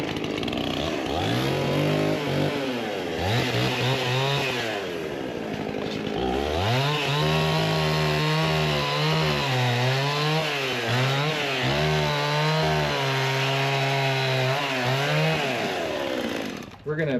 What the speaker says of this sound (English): So we'll get the chainsaw and we'll buzz those off.